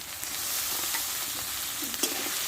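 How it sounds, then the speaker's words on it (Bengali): A fish head sautéing in a pan with ground spice paste, turmeric, whole cumin, green chili and ginger: a steady, close sizzle with faint scraping from stirring, no voices. "মশলাটা এবার ভালো করে আমি কষে নেব"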